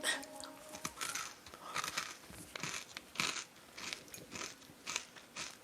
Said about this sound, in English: I don't know if you were getting the Anzac biscuit ASMR. They're very crunchy.